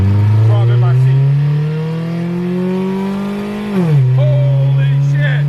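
A manual car's engine winds up hard through the revs in a fast acceleration, a loud rising drone with a gear change near the end, recorded from inside the cabin.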